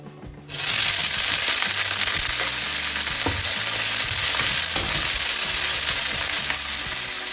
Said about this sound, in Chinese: 咱们锅中再加一些 油，油热以后加入韭菜